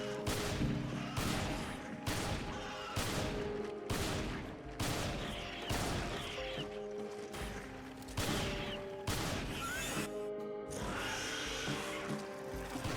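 The Hydra shotgun in Resident Evil 5 fires a rapid series of loud blasts at a boss, about a dozen shots in an even rhythm amid game music and effects.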